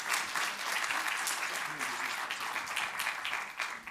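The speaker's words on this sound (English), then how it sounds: "Please have a warm welcome and a round of applause for Dr." Sustained audience applause welcoming a speaker at a scientific collaboration talk, a dense steady wash of many hands clapping at full volume for the whole stretch, with faint voices mixed in.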